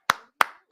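Three sharp hand claps spaced evenly about a third of a second apart, close and crisp with short decays, during a birthday watch party for a WWE Raw live stream.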